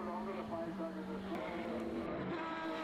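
A Formula BOSS race car on track at an Irish circuit snarls past with a sustained high-revving engine note and slight tyre scrub as it steps out exiting a chicane, heard from a distance.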